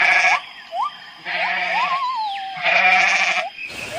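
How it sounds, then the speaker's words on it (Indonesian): A mountain goat bleats loudly and close by, giving several wavering cries in separated bursts, with one long drawn-out call in the middle. "ini kambing gunung teman-teman"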